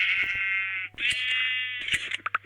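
Three bleats from a sheep hit in Minecraft, each a nasal, wavering cry, loud and close, the last one breaking into short choppy bursts.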